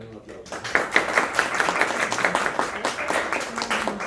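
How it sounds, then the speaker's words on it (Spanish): Applause breaks out at the close of a university practical class, a mix of clapping and crowd noise with speech mixed in, steady and fairly loud after a brief quiet start. "Gracias a ustedes también un aplauso."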